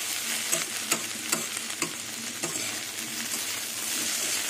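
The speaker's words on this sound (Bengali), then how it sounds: "সব মশলা দিয়ে ভালো করে মিশিয়ে নেব ম্যাগি মশলাটা দিয়ে" Okra and potato frying with Maggi masala are stirred in a pan, giving a steady sizzle with a few sharp scrapes of the spoon spaced through it.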